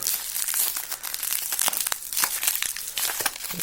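Crinkling and tearing of plastic packaging as a parcel holding an 80-inch projector screen is opened, a continuous close, loud rustle with sharp crackles throughout.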